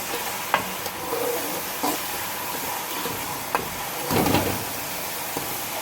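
Onions sizzle steadily in hot oil in a pan while a spoon stirs them with occasional scraping clicks, a close, constant frying hiss with no talking.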